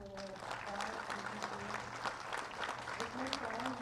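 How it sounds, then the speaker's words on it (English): Applause from seated guests at a court building inauguration ceremony in Gujarat, a moderate, steady clatter of clapping that runs throughout while a voice speaks over a public address system. "Please give handsome round of applause to our"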